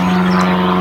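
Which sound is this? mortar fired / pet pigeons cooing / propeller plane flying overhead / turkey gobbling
propeller plane flying overhead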